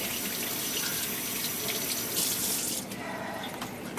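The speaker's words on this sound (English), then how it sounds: "Rinse her off one time." Tap water runs steadily into a sink while a turkey is rinsed, a close continuous splash that shifts and thins near the end.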